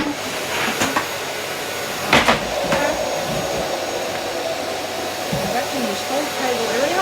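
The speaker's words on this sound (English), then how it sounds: "this is how nice my little vacuum cleaner is. I'm going to vacuum all around here." A small vacuum cleaner running steadily over a table, its high whining motor droning continuously and close, with brief clattering bumps and changes in tone as it moves across the surface.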